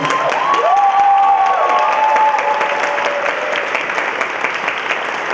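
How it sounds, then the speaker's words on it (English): A crowd at a high school concert band and wind ensemble concert applauds steadily with loud, sustained clapping, while a few voices cheer and whoop over it. "One more round of applause, please, for all these great performers."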